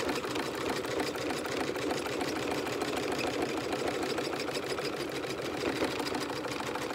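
An embroidery machine stitches metallic thread into apparel faux leather, giving a fast, even mechanical whirr and needle chatter that runs steadily and fairly close, with no talking.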